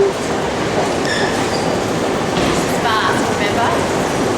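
A Budapest metro red line train rumbles along in a steady, loud roar with faint squeals and clatter, and voices talk underneath.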